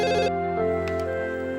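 A telephone rings for an incoming call, a bright, steady electronic ringtone tone that holds close and clear for under two seconds, with no talk.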